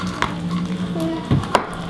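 Thick homemade slime made with contact solution being stirred, giving wet, sticky sloshing and squelching with a couple of sharper gloppy pulls, close and steady, no talk over it.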